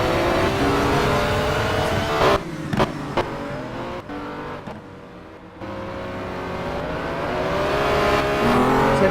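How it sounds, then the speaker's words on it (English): Honda NSX race car heard onboard during a championship race, its engine roaring loud and close with rising revs, brief lifts and gear changes, then building again under acceleration. "Just listen to the sound of this car, it's absolutely mesmerising."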